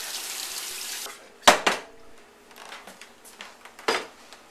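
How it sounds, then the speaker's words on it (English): Cold water splashing over the sides of a pan of cooked noodles in a kitchen, heard as a soft running trickle with two sharper, louder gushes and a few small splashes, close by and with no talking. "to run some cold water over the sides of this pan to kind of get the noodles"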